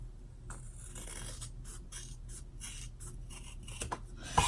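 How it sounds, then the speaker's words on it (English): Scissors trim bulky fabric close to the stitching of a zip bag, a quiet series of short snipping and rubbing cuts at close range. "Make sure to cut straight and just get the bulk off."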